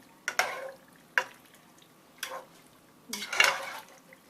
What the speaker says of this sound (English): you just stir it all together